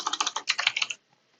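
Rapid typing on a computer keyboard, a quick run of crisp close key clicks lasting about a second before falling silent, with no talking.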